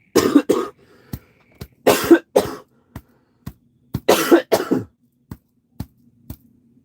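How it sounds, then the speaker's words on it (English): A person coughs in three harsh, close bursts spaced a couple of seconds apart, with small throat clicks and rasps between them. "then I coughed"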